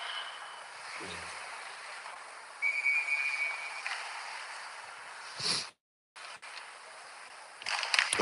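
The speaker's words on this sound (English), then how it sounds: "we get a whistle" A referee's whistle sounds one short, shrill blast to stop play during a U18 AAA ice hockey game, heard at a distance over the steady hum of the arena.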